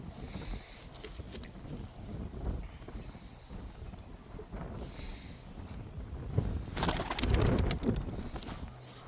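Racing pigeons, older birds kept for long-distance sea-crossing races, coo softly in a loft, low murmuring calls repeating under rustling and shuffling noise, swelling louder near the end.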